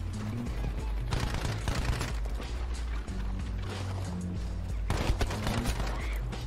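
Rapid bursts of video game gunfire crackle in dense, repeated volleys, loud and close, with short pauses between strings of shots.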